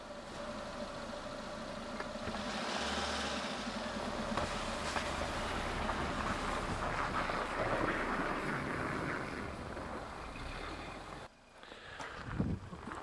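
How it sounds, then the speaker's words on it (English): A car fitted with winter tyres drives along a hard-packed, snowy access track in Britain, its engine a steady mid-pitched drone for most of the stretch before easing off and dropping away near the end. "the winter tyres bite into the snow, grip and drive me forward"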